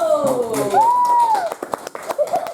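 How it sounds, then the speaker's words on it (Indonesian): A schoolchildren's class claps hands in a classroom lesson, a scattered, uneven burst of claps in the second half, following children's voices. "Belum, tepuk tangan dulu."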